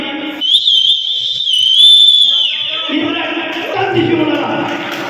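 A sharp, loud whistle rises and holds for about two seconds, the kind of whistle people let out at a dancing apsara, then gives way to cheering and voices.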